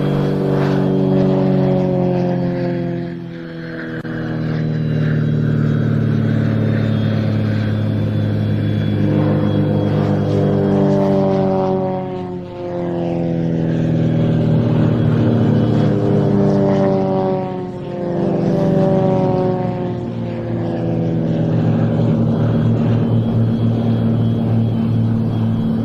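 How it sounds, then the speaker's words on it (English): Several Extra 330LX aerobatic planes of the Royal Jordanian Falcons take off at an air show, a loud sustained propeller engine drone with harmonic whine rising and falling as the aircraft pass, with no talk over it. "the Royal Jordanian Falcons take off with their extra 330 LXs"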